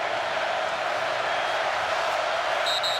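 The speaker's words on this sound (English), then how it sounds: "Oklahoma crowd has come alive here." Oklahoma Sooners fans in a football stadium during a rivalry game against Texas, a steady broad crowd roar at moderate level, distant and sustained with no distinct claps.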